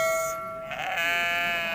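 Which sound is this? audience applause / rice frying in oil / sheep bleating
sheep bleating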